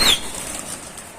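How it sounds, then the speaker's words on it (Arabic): Pigeons at a rooftop loft take off in a brief, sharp clatter of flapping wings at the start, then the sound settles into a soft, distant flutter and outdoor hiss. "الحمام ده يا رجاله على القشره"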